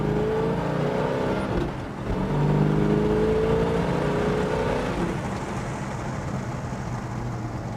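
A Mopar muscle car engine revs and accelerates, a loud continuous growl that rises, dips briefly, then pulls hard again and holds steady, heard up close with no talking.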